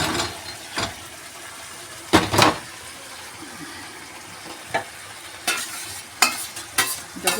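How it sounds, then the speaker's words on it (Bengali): Chicken fries in a spiced tomato gravy in a pan, a low steady sizzle broken by several sharp scraping stirs of a spoon that come at irregular intervals. "এখানে চিকেনটা আমি ঢেলে দেব।"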